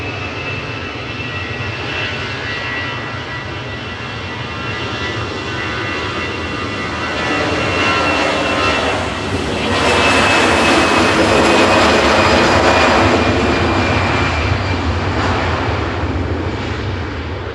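An easyJet passenger jet at Manchester Airport roars past outdoors, a broad loud engine rumble and whine that swells toward the middle and stays strong to the end.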